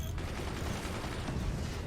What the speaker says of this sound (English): Death from above, a high-angled cannon.